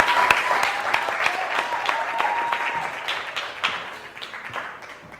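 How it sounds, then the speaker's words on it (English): Sustained audience applause for quiz contestants Phyllis and Alfred at a Ugandan schools challenge show, dense steady clapping that tapers slightly toward the end, with a faint tone and a voice briefly audible beneath. "let's give a huge round of applause to Phyllis and welcome on Alfred."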